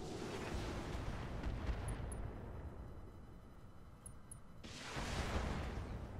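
A weapon fires in the Roguetech BattleTech mod as a continuous rumbling blast, faint and distant, with a second surge of roaring noise swelling near the end.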